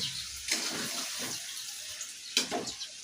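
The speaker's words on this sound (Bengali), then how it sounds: "এখন আমি ঝোলের জন্য এখানে পানি দিয়ে নিব" About a cup of water is poured into a pan of fish curry with eggplant and potato, giving two short splashing pours over a quiet background.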